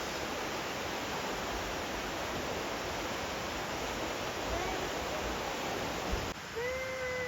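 A jungle river in Sumatra flowing in a steady, loud rush of water that fills the whole clip, with a few faint high whistles or calls near the end.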